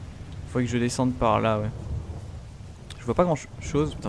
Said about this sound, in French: Allez, que la pluie s'arrête, quoi.